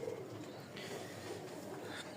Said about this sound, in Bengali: দুই জোড়া কবুতর লক্ষা